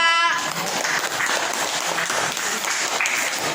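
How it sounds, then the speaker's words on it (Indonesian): A school class applauds a student group after its presentation, steady dense clapping from many hands filling the room from start to finish, with a brief voice at the very beginning. "Tepuk tangan dulu untuk kelompok 2"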